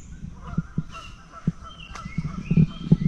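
Geese honking along a working river near a campground in Morris, Illinois, several short irregular honks at moderate distance over a soft outdoor background.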